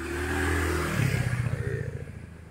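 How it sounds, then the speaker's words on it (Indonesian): A motorcycle passes by along a residential housing-complex street, a steady engine drone that swells into a close, rough, pulsing roar before easing off as it moves away. "Dengerin suara motor lewat dulu."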